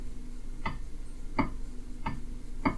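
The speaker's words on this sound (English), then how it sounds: "that little thunking that you hear, and it's the cranks in play this direction" Crankshaft end play in a Ford EcoBoost engine on the bench gives off soft, dull thunks, four evenly spaced knocks close by over a low background hum.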